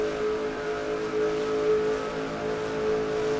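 Racing video game with an on-board race car engine screaming at about 7,200 RPM in a pack at over 205 mph: a steady, loud, high-revving drone holding one pitch throughout, with no voices.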